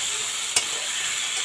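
Vegetables frying in a little oil in a pan, a steady close sizzle with one brief sharp scrape or clack of the stirring spoon partway through.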